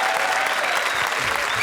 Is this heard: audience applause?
yes